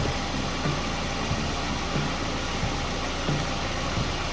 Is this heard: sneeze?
no